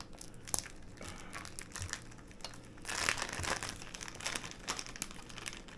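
Crinkling and crumpling of a resealable plastic cheese package as someone struggles to pull it open, with dense irregular rustles, close and fairly loud, swelling midway through.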